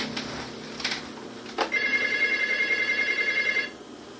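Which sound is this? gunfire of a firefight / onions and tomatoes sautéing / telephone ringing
telephone ringing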